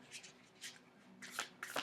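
Bend-proof plastic tarot cards shuffled by hand, quick riffling bursts of crisp flapping and clicking in four or five short clusters, close and quiet.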